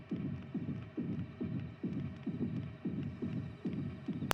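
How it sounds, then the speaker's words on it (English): Steady heartbeat effect from the video game Yomawari: Midnight Shadows: a loud, close run of deep double-thump pulses, about nine beats at an even, fairly quick pace, with no talking. "these heartbeat sound effects do give you a good indication of how close these ghosts are"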